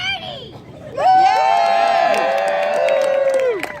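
An audience at Balboa Park in San Diego yells out the time together in one loud, sustained group shout lasting a few seconds, close and dominant, with a brief voice just before.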